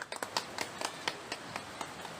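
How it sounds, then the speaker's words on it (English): Light rhythmic hand clapping, about ten crisp claps at a steady pace, fairly quiet and with no talk over it, at an outdoor picnic spot in Karbi-Anglong, Assam. "Clap, clap, clap,"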